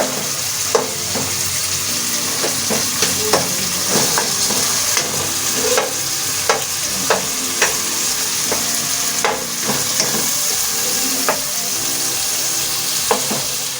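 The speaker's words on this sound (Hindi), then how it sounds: "अब इसकी भुनाई करनी है अच्छी तरह से।" Tomato masala roasts in a pan for mash dal, a constant close sizzle punctuated by regular sharp scrapes and taps of the spoon as it is stirred.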